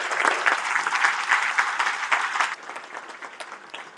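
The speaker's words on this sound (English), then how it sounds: "I'm gonna applaud you." A crowd at a charity dinner in London bursts into brisk applause, dense and fairly close, then thins out and fades after a couple of seconds.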